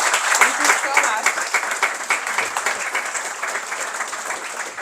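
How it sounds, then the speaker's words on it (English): Applause from the audience at a startup fireside chat, a fairly close, dense patter of many hands that is strongest at the start and eases slightly while continuing throughout. "This is a big round of applause for Kira."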